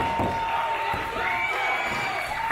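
Wrestling arena crowd at a Chris Bey match, a steady, dense roar of cheering and shouting that holds loud and unbroken throughout, with no single voice standing out.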